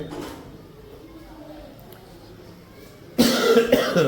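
A sudden loud cough from a man with a cold bursts out near the end after several seconds of quiet room noise, close and harsh.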